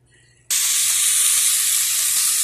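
Mesquite-marinated chicken breast hitting the hot pan, half a second of near quiet then a sudden loud, steady sizzle and hiss that continues unbroken.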